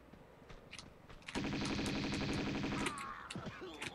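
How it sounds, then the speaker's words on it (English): Uzi gunfire in the Tomb Raider 2 video game, Tibetan Foothills level: a loud, rapid burst of automatic fire lasting about a second and a half, set among quieter game sounds. "And I'll finish him off with the Uzis."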